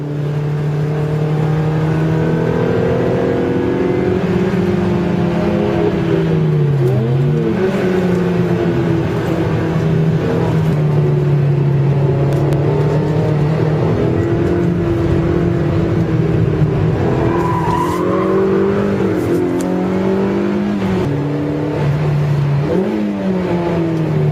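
A Mazda MX-5 Miata is driven hard on a race circuit with stability control switched off. Its engine is loud and close, rising and falling steadily through corners, with brief higher squeal-like tones near the end.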